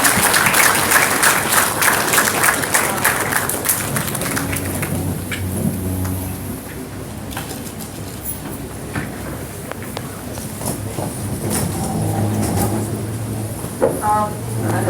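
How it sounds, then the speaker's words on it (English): Audience applause at the valedictory function of a national moot court competition, with a dense, sustained wash of clapping that eases slightly midway and then swells again, accompanied by scattered background voices. "Guys, give them a round of applause."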